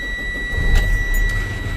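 The engine of a bus being checked for air brake testing turns over and catches in a short low rumble with a brief burst, over a steady idle hum and faint ringing tones.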